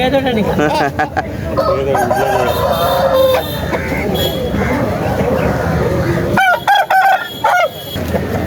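At a country chicken market in Mamidada, a rooster crows loudly nearby, long and drawn out, while other chickens cluck and people chat in the background.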